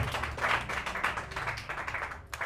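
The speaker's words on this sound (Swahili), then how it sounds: "Tupigie wamama makofi, wamefanya kazi nzuri." A church congregation applauds the women at an International Women's Day service. The clapping is lively and moderately close, with a dense patter of hands that swells and fades briefly over a couple of seconds.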